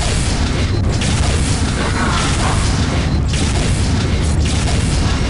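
Weapon fire in the Unreal Gold first-person shooter game: dense, loud booming blasts follow one another over a steady rumbling bed of game noise, with no break throughout.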